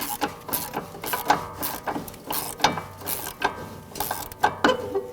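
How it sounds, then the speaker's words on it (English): A 5 mm Allen head socket spinning on a sway bar link bolt on a 2015-2024 Jeep Renegade, giving quick repeated ratcheting clicks in short bursts, close up and crisp with no talking. "take your 5 millimeter Allen head socket, get that in there, and you're gonna spin it just like this"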